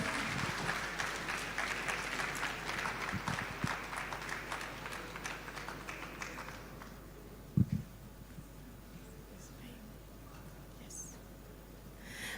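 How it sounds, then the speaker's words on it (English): An audience at the 10th KNUST Summer School 2023 gives sustained applause for about seven seconds, then the clapping fades into a quiet hall with a brief thump. "Please give them a round of applause."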